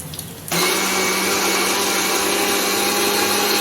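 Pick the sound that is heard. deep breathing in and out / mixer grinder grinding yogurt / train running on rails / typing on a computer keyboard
mixer grinder grinding yogurt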